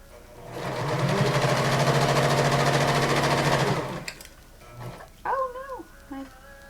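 Sewing machine stitching fabric in a steady, continuous run for about three seconds, then stopping, followed by a few faint handling clicks and a short whirring noise.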